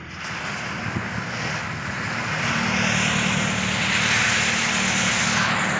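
A tractor works out in the open in a pomegranate orchard being cleared of trees, its engine a steady, fairly distant drone that swells slightly over time beneath windy outdoor rumble.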